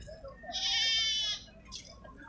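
A young female Sindhi goat kid gives one clear, fairly loud bleat of about a second, followed by a fainter short call, with light background noise.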